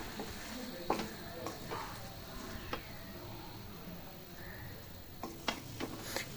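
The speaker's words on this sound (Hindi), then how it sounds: "खोया ऐड करने के बाद इसे बहुत अच्छे से मिक्स कर लेना है" Carrot halwa with khoya being stirred in a pan, soft scraping strokes and occasional spoon knocks against the metal over a faint sizzle, quiet and close.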